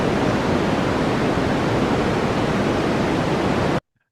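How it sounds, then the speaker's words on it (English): A steady, loud broadband hiss of white noise runs unbroken for nearly four seconds, then cuts off abruptly into silence. "There's your white noise right there."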